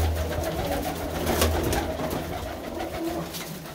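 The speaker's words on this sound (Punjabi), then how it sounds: "ਜਿਹੜੇ ਤੁਸੀਂ ਕਬੂਤਰ ਦੇਖ ਰਹੇ ਹੋ" Pigeons coo in a loft kept by a breeder. Low, throaty coos repeat close by over a background murmur.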